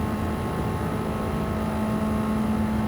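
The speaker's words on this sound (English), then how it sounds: "I love the way the engine sounds as we have it floored" A Mazda CX-30 engine in a racing video game drones loudly and steadily at full throttle, a constant mechanical roar with a strong low hum throughout.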